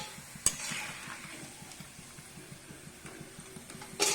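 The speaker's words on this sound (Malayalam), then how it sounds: "ഇങ്ങനെ അരിഞ്ഞു വെച്ചേക്കുന്ന എല്ലാ ഇതും നമുക്കൊരു വറുത്ത് കോരാം" Sliced breadfruit chips frying in a small amount of oil give a quiet, steady sizzle close by, with a few sharp clinks of a utensil and no talking.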